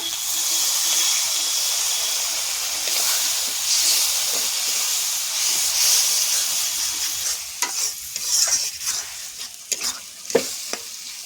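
Spices for a Bhetki fish curry sizzle and hiss loudly in a hot pan after a splash of water, with a steady steamy fry broken by scattered stirring clatters toward the end.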